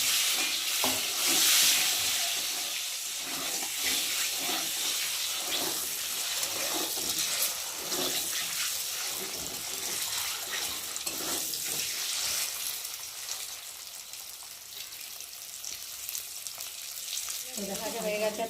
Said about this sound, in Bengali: এখন ডিমগুলোকে ভালো করে একটু ভেজে নেবো